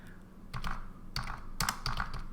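Keys clack on a computer keyboard at a Fedora Linux terminal, a few quick bursts of typing with short pauses, close and clear with no talking.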